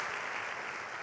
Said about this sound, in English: Let's give them a round of applause for keeping our voices heard in this community.